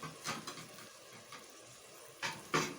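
Moong daal frying in a pan while being stirred, heard as faint sizzling with a few sharp scraping and clinking strokes of a spoon against the pan, close and sparse.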